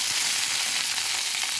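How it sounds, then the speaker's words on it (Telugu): Green chillies frying in a pan on low heat, a steady dense hiss and crackle of hot oil close by, continuous and fairly loud with no voices. "సిమ్లో పెట్టి పచ్చిమిర్చి కూడా వేసుకోవాలి."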